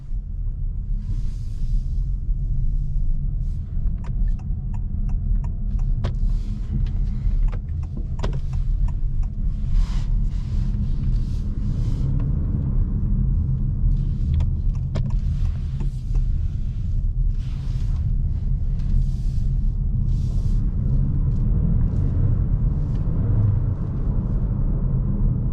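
Inside a 2022 Honda HR-V 1.5 e:HEV hybrid on the move, a steady low road rumble and hum fills the cabin with small rattles and clicks, fairly quiet and without talk.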